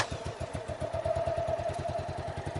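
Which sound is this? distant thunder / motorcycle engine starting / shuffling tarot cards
motorcycle engine starting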